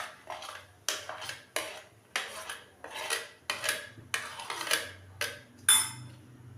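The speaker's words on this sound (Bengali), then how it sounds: "এখানে নিয়েছি খানিকটা পেঁয়াজ কুচি, ধনেপাতা কুচি আর টমেটো কুচি। তো এইগুলো মিশিয়ে নেব।" A spoon mixes chopped onion, coriander and tomato in a bowl for a roti chaat. It makes a steady rhythm of about a dozen scraping, clinking strokes, close and clear, with no talking.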